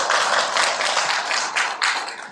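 An audience at a neighborhood community council orientation bursts into dense, steady applause, many hands clapping together, loud and close for a couple of seconds.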